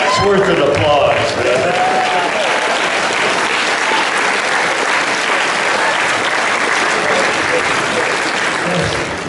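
A convention audience at a Dark Shadows 60th anniversary panel breaks into loud, sustained applause, a dense wash of clapping from a large crowd that lasts the whole stretch, with some voices mixed in.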